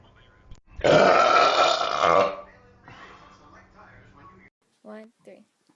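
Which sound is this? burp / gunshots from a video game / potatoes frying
burp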